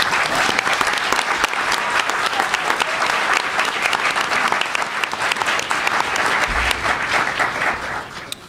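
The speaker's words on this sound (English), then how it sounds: "I'd like all of us to give them a huge round of applause" A large audience at an education and technology event breaks into loud, sustained applause, a dense continuous patter of many hands that holds steady for over eight seconds.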